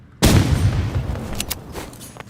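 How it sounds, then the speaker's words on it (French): A grenade explodes in the Roblox game as a sudden loud blast after a moment of near silence, followed by a rumbling decay and a couple of sharp crackling bursts. "je vais le provoquer avec ma grenade"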